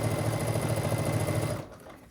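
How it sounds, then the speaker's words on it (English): A sewing machine stitches quilt strips in a steady, close, rapid mechanical whir for about a second and a half, then stops and leaves near silence. "All right, I'm gonna sew one more,"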